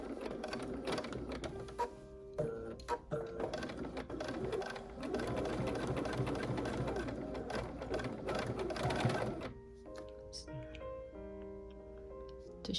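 A sewing machine stitches a quilted pumpkin trivet in quick, steady mechanical bursts with ticking gear sounds, pausing briefly before resuming at a quieter pace near the end.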